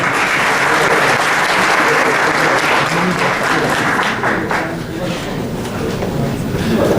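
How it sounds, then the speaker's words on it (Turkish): Conference-hall audience at an entrepreneurship summit applauds during a plaque presentation, a sustained broad wash of clapping that dips briefly midway and then swells again. "Alkışlarla."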